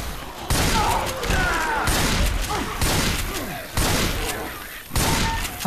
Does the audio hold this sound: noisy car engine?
no